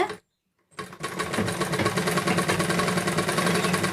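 A sewing machine stitches blouse lining cloth, starting after a brief silence into a fast, steady, close mechanical chatter that runs continuously without any talking.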